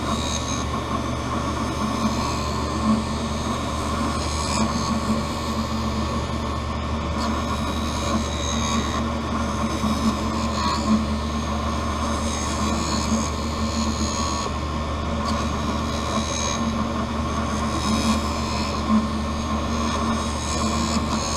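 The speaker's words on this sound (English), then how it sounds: "it's going to recalibrate itself to know exactly where to place the lens now onto the bevel wheel" A lens edger grinds a V-shaped bevel into a prescription sunglass lens for a Versace 4265 frame, giving a steady, even mechanical whir and hum that runs unbroken throughout at moderate loudness.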